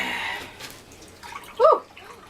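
Beef broth pours from a container into a pot in a home kitchen with a splashing, gurgling wash of liquid, ending in a brief louder slosh.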